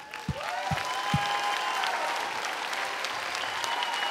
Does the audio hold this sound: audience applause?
yes